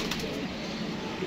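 A pigeon on a rooftop gives soft, brief cooing calls over faint outdoor background noise, fairly close but quiet.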